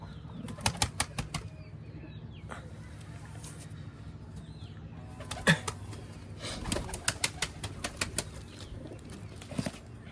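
Pigeons leaving their coop one by one make quick, papery bursts of flapping wings, each flurry brief and fairly close, separated by quieter gaps of background noise.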